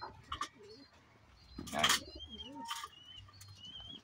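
Soft, low pigeon coos repeat a few times nearby, mixed with brief chirps and rustling flutters in a quiet setting.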